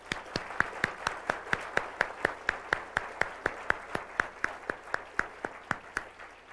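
Audience at an IEEE awards ceremony in Vancouver gives a round of applause; a steady train of crisp, evenly spaced claps, fairly sparse and close, with no talk over it.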